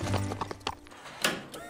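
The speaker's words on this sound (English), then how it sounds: "They're just foals, Aztec" Cartoon foals arrive at a horse ranch, their hooves clip-clopping in quick light steps up close, mixed with a brief whinny and nearby speech.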